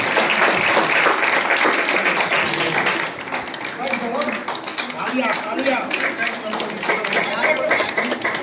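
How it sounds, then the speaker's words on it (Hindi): An audience claps at a Republic Day eve ceremony honouring ex-servicemen, with dense, loud applause at first that thins to lighter, scattered clapping while a voice talks over it. "कृपया तालियां बजाते रहें बच्चियों के हौसला बढ़ाने के लिए"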